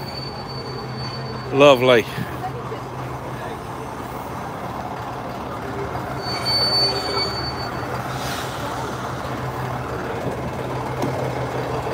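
A train to Swanage gives a brief, loud wheel squeal early on, followed by a steady rumbling rail background with a fainter squeal later, while someone talks nearby.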